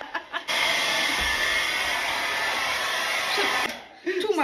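A hair dryer runs loud and steady for a few seconds during at-home testing of a heatless hair curler, with brief voices and handling noises before it starts and after it cuts off.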